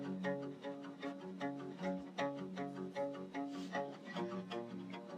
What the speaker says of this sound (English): This is an acoustic pitched down an octave.